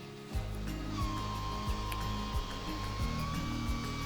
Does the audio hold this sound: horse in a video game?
no